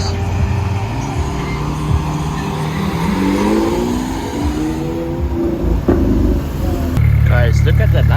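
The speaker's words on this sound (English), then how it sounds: "Got an SVJ Roadster right here." A Lamborghini Aventador SVJ Roadster drives past on a street in GTA Los Santos with an 8K graphics mod, its engine note rising and sweeping by under steady background noise, with a brief tire squeal near the end.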